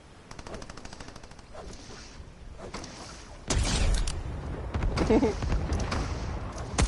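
Gunfire in the video game Fortnite, with rapid automatic bursts and heavier shots that grow louder and denser partway through. Players talk over the shooting.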